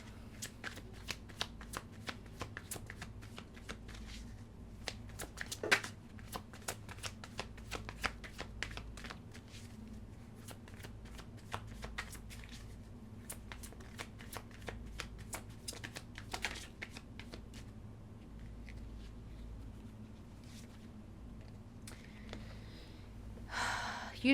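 Tarot cards are shuffled steadily for a long stretch, with a dense run of soft riffling slaps and flutters close by, punctuated by occasional sharper snaps and faint breaths.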